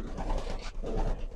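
Breeder pigeons on a rooftop breeding setup coo softly and steadily, a close, continuous warbling of several birds with no talk.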